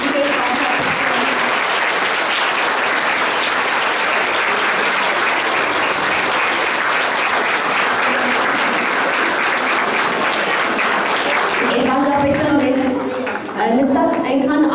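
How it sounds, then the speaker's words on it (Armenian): An audience at a ceremony gives sustained, dense applause that fills the hall loudly, fading near the end as a voice begins speaking. "ուզում եմ շատ բարձր ծափահարել իրենց"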